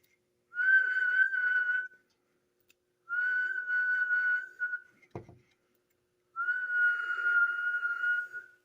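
A person whistles a steady tone into a CB radio microphone in three sustained bursts separated by pauses, with a brief click between the second and third, clear and close with no talking.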